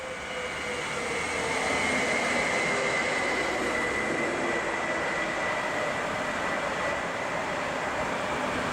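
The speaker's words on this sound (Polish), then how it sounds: "Pociąg osobowy do Ciechanowa" A passenger train bound for Ciechanów runs through Warszawa Młynów station, a steady, fairly loud rolling roar with a sustained electric hum that builds in the first second and then holds level.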